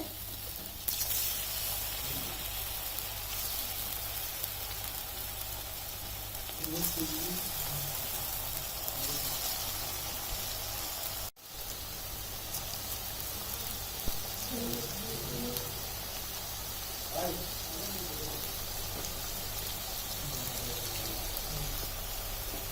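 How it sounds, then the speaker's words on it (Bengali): Chicken puli pitha, spicy meat-filled dumplings, frying in hot oil, giving a steady broadband sizzle and hiss throughout with scattered soft pops, close and fairly even, with faint voices now and then. "তেলটা গরম হয়ে গেছে, পিঠাগুলো আম্মু ছেড়ে দিচ্ছে।"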